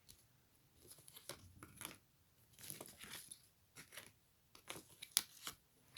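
Three tarot cards drawn from a deck, giving soft papery slides, flicks and snaps in irregular bursts, close and quiet with no talking.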